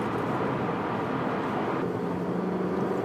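A 2016 Milano Red Honda Civic Type-R GT engine accelerating hard, a steady, loud broadband roar heard from inside the car, with the engine note shifting slightly partway through.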